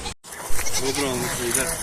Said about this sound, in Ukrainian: Крики на цілі городи.